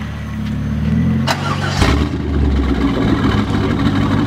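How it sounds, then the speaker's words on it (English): A car revs and accelerates hard during a street race against a Corvette, heard from close inside the vehicle. A low steady engine drone climbs, a sharp knock comes as it shifts, and it keeps pulling loudly. "So now I think I'm racing Andrew. In the Corvette."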